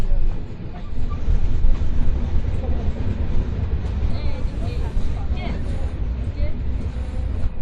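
An express train entering Kashiani Junction rumbles along at close range, with a loud low drone and some clattering. Voices murmur faintly underneath.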